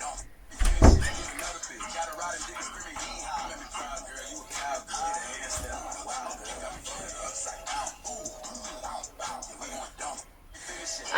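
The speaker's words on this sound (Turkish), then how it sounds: "Kapıyı kapat aşkım." A door thuds shut once near the start, a loud close impact, while people talk at home throughout.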